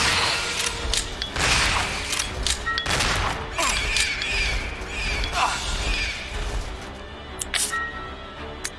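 Rapid gunfire in the Resident Evil 0 video game as the player shoots at bats: loud, repeated bursts of shots and crashes fill the scene, with game effects in between.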